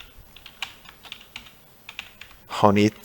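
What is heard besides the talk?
typing text on a computer keyboard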